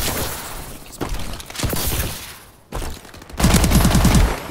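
Automatic rifle fire in Call of Duty Advanced Warfare during a Hardpoint match, with rapid bursts of gunshots separated by short pauses, ending in a louder, heavier sustained volley.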